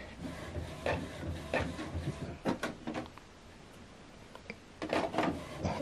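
A printer prints a document, its mechanism whirring and clunking in uneven bursts with short pauses, fairly quiet and without any voices.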